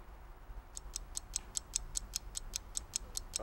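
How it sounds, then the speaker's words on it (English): A game show countdown clock ticks steadily in a regular series of crisp, evenly spaced clicks over a quiet background, with no talking. "The clock is ticking"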